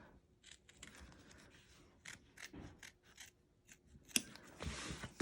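Scissors snip fabric held in an embroidery hoop while making a zip bag, giving a series of soft, close, irregular cutting crunches and rasps at low volume.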